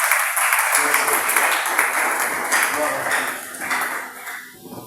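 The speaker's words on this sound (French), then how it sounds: "Acclamez pour vous-même." A church congregation claps during a sermon, with steady, dense applause from many hands filling the room throughout while a voice talks over it.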